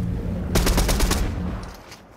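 Rapid burst of automatic gunfire in a video game shooter, roughly ten close, loud shots in quick succession that fade into a quieter tail, with no talking over it.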